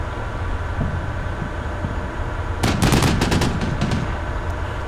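Machine guns fire in a short rattling volley partway through a Combat Mission Black Sea wargame battle, breaking over a steady low rumble of background noise.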